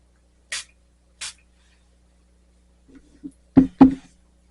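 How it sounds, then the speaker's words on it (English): Two quick, crisp pumps of a Milani Make It Last makeup setting spray bottle, a second apart, followed moments later by a few short vocal sounds. "Let's spray this with my Milani Make It Last spray."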